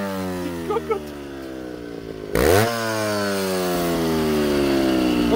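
A touring motorcycle engine idles and then revs with a steady harmonic drone, with a sharp blip partway through, while fire is burning in the exhaust. Short sounds come near the start.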